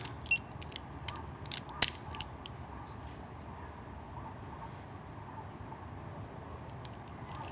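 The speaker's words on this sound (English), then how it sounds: "now we can tighten this foot peg bracket with a 6mm Allen" A 6mm Allen key tightens a foot peg bracket on a Triumph Street Twin during a competition header install, giving a few faint close ratcheting clicks and creaks over a quiet room, with no talk.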